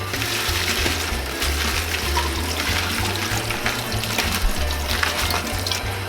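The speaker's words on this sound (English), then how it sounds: "we will be rinsing our chiles" Running tap water splashing over dried chiles being rinsed for red enchiladas, a steady close rush of water with a low hum underneath, no voices.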